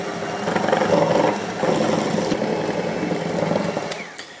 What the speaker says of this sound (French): je vais fouetter l'ensemble au batteur électrique jusqu'à ce que le mélange